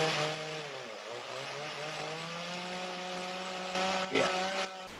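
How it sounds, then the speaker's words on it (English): Chainsaws cutting in a forest, a steady droning whine with rising and falling pitch, faint and distant, with a brief louder surge near the end. "You guys can hear the chainsaws here, I guess."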